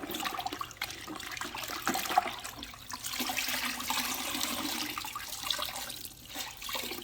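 Dirty wash mitt plunged and rinsed in a bucket of rinseless wash solution fitted with a grit guard, continuous close sloshing and splashing water throughout with brief drips, no talking.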